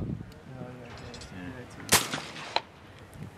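A shotgun fires at a flying clay pigeon target on a shooting outing: one sharp, loud blast with a brief echo, followed by a smaller crack, with a voice heard just before.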